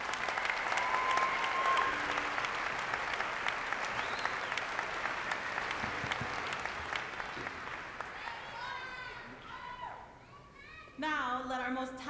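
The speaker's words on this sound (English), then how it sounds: "So could we give another round of applause to them?" Audience applause at a university luau, sustained clapping from a large crowd that gradually fades, with children's voices and a speaking voice surfacing near the end.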